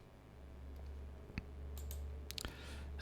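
A computer mouse clicks to save in an Unreal Engine 5.4 editor. There are two or three soft, quick clicks, close and quiet, over a faint steady room hum.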